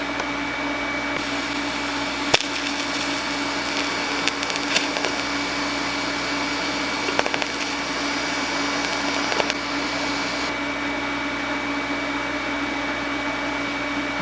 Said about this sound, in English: Let's just spot weld it.